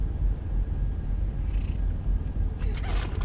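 A pet cat purrs steadily close by, with a brief higher meow toward the end as it asks for a treat inside a truck cab on a long drive, with faint road rumble underneath.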